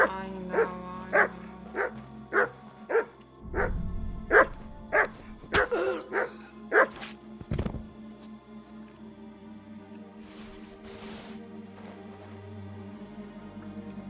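The dog Mutt barks in Kingdom Come Deliverance II, a steady run of about ten clear, evenly spaced barks up close, followed by scuffling and quieter ambient game sound.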